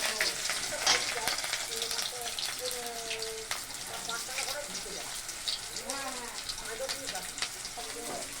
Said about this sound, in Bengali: পেঁয়াজ দিয়ে নাড়াচাড়া করে নিল